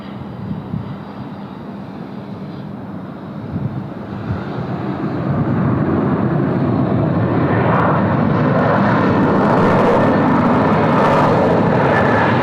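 A Korean Air Boeing 787-10 taxis northbound on taxiway Charlie at Sydney Airport, its engine roar steady at first, then swelling louder and fuller over the last several seconds, with no voices.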